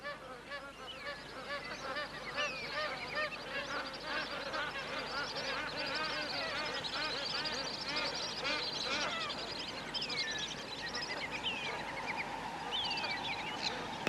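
A large flock of magpie geese honks continuously over a drying tropical swamp, a dense, overlapping chorus of calls that stays busy and steady throughout at moderate distance.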